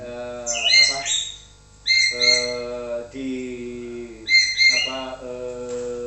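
A perkutut, or zebra dove, calls nearby in repeated bursts of bright chirps that lead into cooing, soft rolling notes, with short pauses between phrases.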